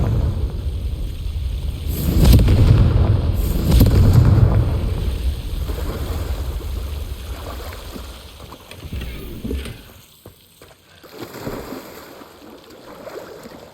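Confringo blasting spell exploding in Hogwarts Legacy, two deep rumbling blasts close together followed by a fading low roar and quieter ambience.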